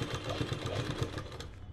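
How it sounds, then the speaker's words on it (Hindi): A domestic sewing machine runs steadily while stitching a zigzag seam on a salwar bottom, its fast rhythmic whirr continuous and close up, with no talk over it. "यहाँ बीचों बीच मशीन को रोकेंगे ऐसे और फिर जिगजैग बनाएंगे"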